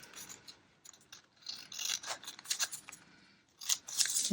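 Scissors cut through junk mail paper up close, a run of crisp, rasping snips in uneven bursts with a brief pause before a final cut.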